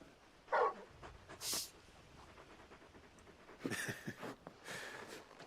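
Torgal, a large dog in the video game Final Fantasy XVI, pants and snuffles in short, quiet bursts with gaps between them, close by and without speech.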